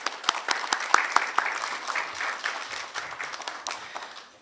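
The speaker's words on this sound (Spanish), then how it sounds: "¿Le podemos dar un aplauso, por favor?" An audience at a public forum breaks into applause, scattered sharp claps at first thickening into a steady patter that fades out over a few seconds, heard from within the room.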